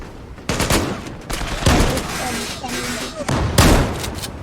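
Gunfire from a gun in the online shooter game Zula, loud bursts of rapid shots repeating across the clip with busy in-game noise between them.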